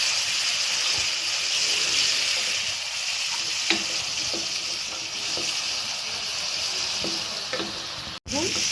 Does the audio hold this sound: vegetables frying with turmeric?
yes